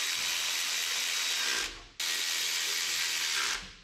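Ratchet wrench clicking rapidly while tightening bolts on a 1930 Model car engine during assembly, two steady bursts of close, loud ratcheting, each about one and a half seconds, with no talk.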